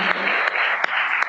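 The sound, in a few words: applause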